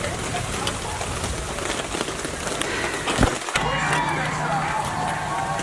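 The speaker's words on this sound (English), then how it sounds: "it's starting to rain now" Rain falls steadily outdoors at a backyard barbecue, pattering densely on surfaces with a constant hiss and occasional louder drops and a brief thump.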